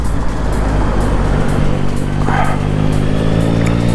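A 2021 Yamaha MT-09 motorcycle with a quick shifter accelerates on an open road, a loud, steady engine drone with rising harmonic tones under strong wind rush, no talking.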